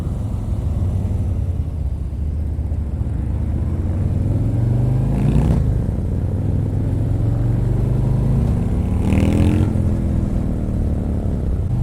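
A 2018 Harley-Davidson Ultra Limited 107 motorcycle cruising, its engine drone steady and close over continuous wind and road rush, with two brief rises in pitch as the rider rolls on the throttle.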